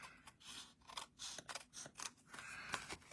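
Scissors snipping through paper cardstock around a stamped A2 card panel, a quick series of close, crisp cuts in an irregular rhythm.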